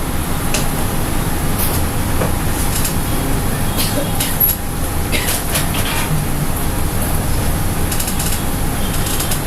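An office printer runs off a single invoice page with a steady, close mechanical whir and rattle that holds for several seconds, with faint rhythmic clicking and a high, thin whine over it.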